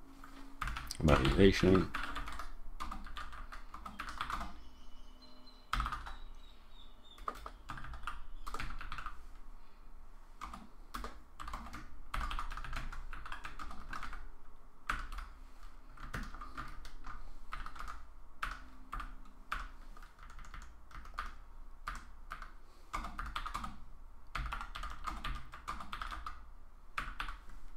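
Typing a commit message on a computer keyboard: soft, irregular clicks and key taps run throughout at low level, with someone speaking intermittently over them.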